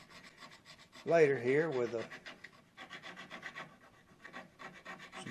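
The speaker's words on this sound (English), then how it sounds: "I've got several different grits of this, but that's the one I'm going to use on this particular one. We're just going to round it over with this." A hand-held abrasive grit rasps across banjo wood from a 1924 Gibson as the edge is rounded over, a close back-and-forth scraping in short repeated strokes with a louder burst early on, while someone talks briefly.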